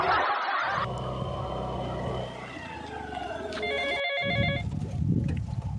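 A telephone rings with a sharp electronic trill, repeating briefly over background room noise and a few faint voices.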